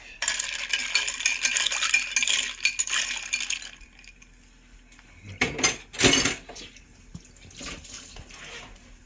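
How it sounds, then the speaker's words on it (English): A knife stirs iced coffee in a jug, giving a close, busy rattle of ice and liquid for several seconds, then a quieter gap and a few sharper clinks against the container. "Stir it with a knife."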